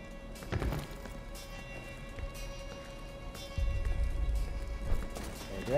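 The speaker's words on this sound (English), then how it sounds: "I hear other footsteps." Footsteps in the video game Deathloop, several distinct hard steps thudding at irregular intervals among ambient game noise, growing louder and closer toward the end.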